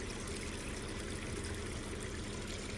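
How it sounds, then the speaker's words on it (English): Water rushes steadily down a waterfall on an off-road Jeep trail, a constant broadband roar with no breaks, fairly faint and distant. "we have some nice waterfalls"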